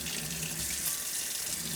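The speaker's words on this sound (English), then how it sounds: "over the running water or in the running water, it peels so easily" Cold tap water running into a sink while boiled eggs are peeled beneath it, a steady hissing splash close by, continuous and unbroken with no talking.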